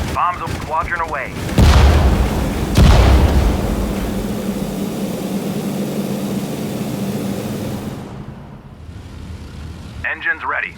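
Bombs explode in the Pacific campaign of the Sudden Strike 4 strategy game, several heavy booms followed by a long rumbling roar, loud and near, with speech before and after.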